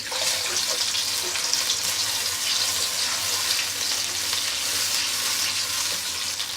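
Spice paste fries in a cup of hot oil in a karahi for mutton karahi, a loud, dense and unbroken hiss of sizzling that stays close and even throughout.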